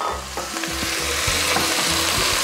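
Potatoes going into a cazuela for patatas a la riojana with chorizo, hitting hot oil with a steady sizzle and frying hiss, broken by a few stirring scrapes and knocks, close and with no voices.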